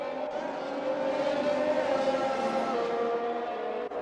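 Racing cars in a sim racing game roar through a wheel-to-wheel overtake at a Canada round, engine notes sustained and steady at close range, with no voices over the noise.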